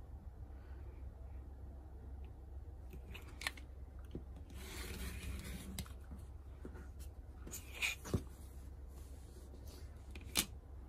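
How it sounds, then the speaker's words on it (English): Trimming quilt sashing fabric for a curvelet lap quilt produces quiet, intermittent scraping and cutting strokes with a few sharper ticks, close by over a low steady background hum. "And then now I need to trim up the top and bottom sashing."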